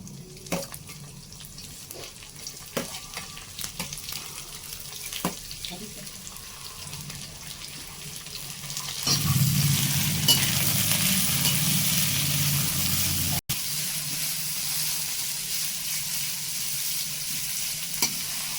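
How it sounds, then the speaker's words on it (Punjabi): Vegetables stir-frying in oil in a wok for veg noodles, with soft sizzling and sharp scraping and tossing clicks, then a louder, fuller sizzle partway through that carries on to the end. "ਹੁਣ ਆਪਾਂ ਇਹਦੇ ਵਿੱਚ ਸਾਰੀਆਂ ਵੈਜੀਟੇਬਲਸ ਪਾ ਲਾਂਗੇ"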